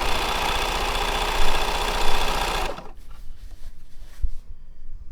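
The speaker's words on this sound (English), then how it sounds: "I am just sewing right inside the seam that I sewed the first time." A sewing machine stitching inside a seam of a burrito-style pillowcase, a loud, steady rapid whir and knock that runs for a few seconds then stops, followed by quiet handling noises.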